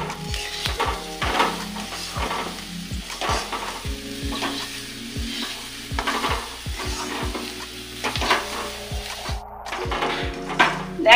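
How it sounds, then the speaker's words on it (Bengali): Grated coconut stirred with sugar in a pan, a rhythmic series of spatula scrapes and knocks against the metal over a low sizzle, close up with no voices. "চিনিটা দিয়ে সমানে নাড়বো"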